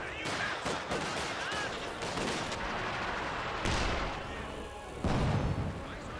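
Bursts of gunfire and heavy weapon shots in a Company of Heroes 2 battle, with Panzer Fusiliers engaging a tank counter squad; loud, dense, repeated volleys with booming hits throughout.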